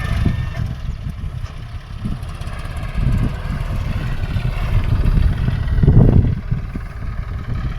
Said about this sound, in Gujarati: ટ્રેક્ટર આ રીતે ભરે